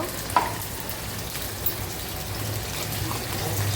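Tomatoes go into fried onion in a pan, followed by a low, steady sizzle with a couple of small splashy pops and clicks near the start, quiet and close with no talking.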